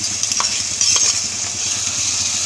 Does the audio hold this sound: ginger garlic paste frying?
yes